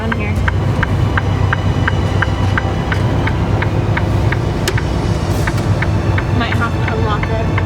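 A truck engine drones low and steady while the truck creeps through snow in a blizzard with its differential locked, a regular ticking clicking over the rumble and someone talking throughout.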